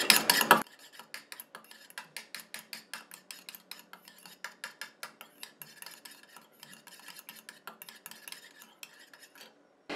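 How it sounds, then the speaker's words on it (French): A utensil stirring a homemade hair elixir for damaged hair in a small container, giving quick rhythmic clinks and scrapes up close after a brief louder rustle at the start, with no voices. "Je mélange un petit coup."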